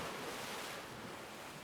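Ocean surf at Ngiroboyo beach in Pacitan, where a river meets the sea, heard as a faint, continuous wash of waves with light wind and no voices.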